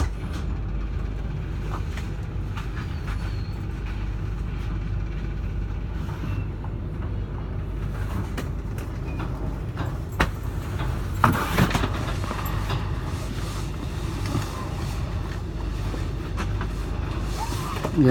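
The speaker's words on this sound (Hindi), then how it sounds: "काफ़ी लंबी मालगाड़ी।" A long freight train rolls past on the line, making a continuous rumbling roar with occasional metallic clanks and rattles that lasts the whole stretch, fairly loud and steady.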